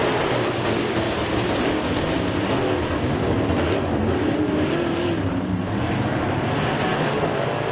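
Dirt track race cars at Stateline Speedway roar off the start of a heat race, a dense, continuous engine drone with no pauses, loud and steady throughout.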